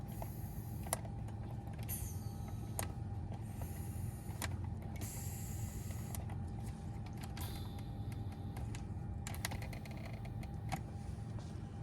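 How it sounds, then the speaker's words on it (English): The multicontour seat air pump in a Mercedes GL 550 X164 whirs steadily as it inflates and deflates, a low continuous mechanical hum with occasional clicks and creaks, faint and close. "when you push these buttons, it either lets out air or it puts air in. You can hear it."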